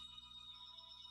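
Faint phone ringtone with steady high electronic tones sounding continuously through a short stretch, quiet and alone over low background hum during a webinar.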